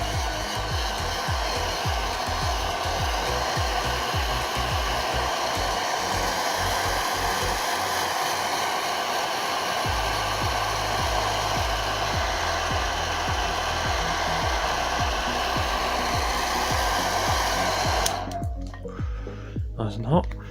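A heat gun blows a steady, loud hiss of hot air while a vehicle wrap is heated so it will stick, running continuously for most of the stretch before cutting off near the end, with a voice talking over it.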